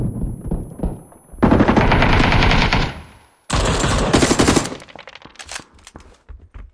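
Bursts of rapid automatic gunfire from a video game, two long loud volleys separated by a brief pause, followed by scattered fainter shots.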